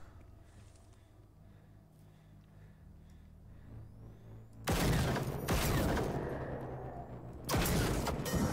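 Video-game gunfire erupts in two loud, dense bursts partway through, each a rapid rattling volley, following a quieter stretch of low game ambience and faint mechanical noise.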